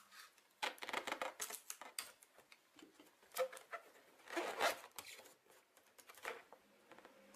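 Adhesive tape pulled from a roll and pressed onto an inflated balloon, heard as a run of quiet, crackly ripping and sticking bursts with short pauses between them.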